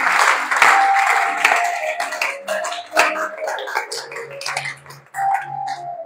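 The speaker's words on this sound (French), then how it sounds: "Acclamons tous le Seigneur." Church congregation clapping and applauding together, a dense continuous burst of hand claps with scattered voices, steady for several seconds with brief dips before picking back up.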